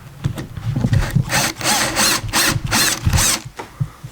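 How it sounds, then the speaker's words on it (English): A power drill bores into wood in a string of loud, close bursts, the motor whining and the bit grinding in short rhythmic pulses with brief pauses between them. "Just so that the drill bit tip doesn't walk on me."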